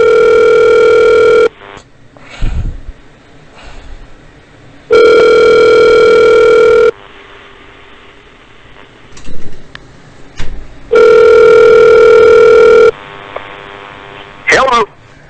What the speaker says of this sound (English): I got a dial tone.